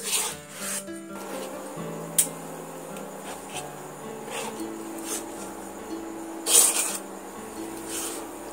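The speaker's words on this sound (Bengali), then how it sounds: "দিয়ে আবারও নাড়তে থাকবো এইভাবে।" A spoon scrapes and rubs through besan sandesh dough with chopped cashews in a pan, giving soft, steady scraping strokes at close range with a couple of sharper clinks.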